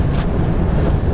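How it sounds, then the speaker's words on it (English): Wind noise roaring through the open hatch of a moving Scania G490 truck, a loud, constant low rumble and buffeting with no speech. "Oh, there's a lot of wind noise now."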